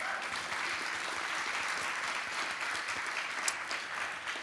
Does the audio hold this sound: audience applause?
yes